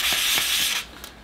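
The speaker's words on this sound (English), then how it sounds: "you can just sand it and take it back carefully to the clay." Wet sandpaper of 1000 grit rubs against the foot of a clay bonsai pot, a close, steady rasping scrape in short strokes that stops near the end.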